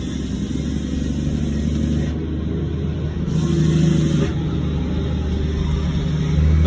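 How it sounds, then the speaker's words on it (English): A big truck passes on a nearby road with a steady, loud engine rumble and rushing tyre noise. The sound swells briefly partway through and carries on throughout, with no speech over it. "Sorry, there's a truck coming, big truck."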